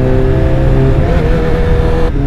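A BMW S1000XR motorcycle with a full Akrapovic exhaust system drones loudly and close while riding, with a steady engine tone that rises slightly before a brief shift-like drop.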